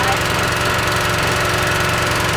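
A small engine runs steadily at a loud, even putter, close by, with no change in pace throughout.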